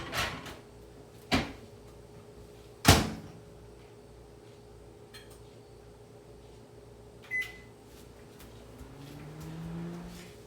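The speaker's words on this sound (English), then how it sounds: "I'm going to put this in the microwave" A few clunks and clicks, a door latch and a beep, then a low steady microwave hum starts running near the end.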